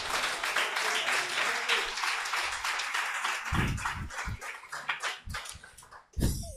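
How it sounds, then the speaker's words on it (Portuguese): A church congregation applauds at an evening worship service, dense clapping filling the room for several seconds before thinning into scattered claps, with a few voices calling out near the end. "Você pode aplaudir o Senhor nessa noite?"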